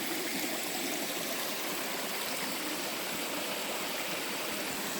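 A mountain valley stream rushes steadily, a dense, close wash of flowing water that stays even throughout with no voices.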